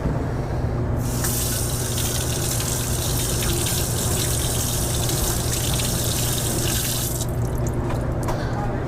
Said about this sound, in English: Rinse the filter with cool water.